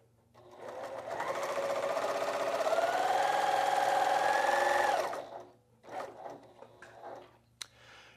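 A b08 sewing machine runs a reverse stitch to secure a seam in heavy fabric or leather, humming steadily for several seconds with a shifting motor pitch before stopping, followed by a few quieter clicks and handling noises.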